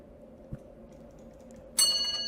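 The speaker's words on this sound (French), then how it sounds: "Une cloche." A bell rings out in the horror video game Evil Nun 2, a sudden bright metallic strike near the end with a lingering ringing decay, after a quiet stretch with a single soft knock.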